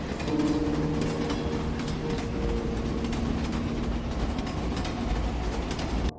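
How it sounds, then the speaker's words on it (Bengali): Train rolling steadily through open fields, a continuous loud rumble of wheels on rails with a faint rhythmic clatter, holding constant throughout before cutting off at the end. "ট্রেন চলেছে বিস্তর মাঠের মধ্য দিয়ে।"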